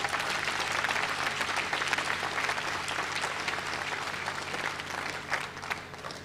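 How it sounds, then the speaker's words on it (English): A large audience at an evening session claps continuously, a dense, even wash of applause that stays full throughout and fades only slightly near the end, with a faint murmur of crowd underneath. "Now you can clap."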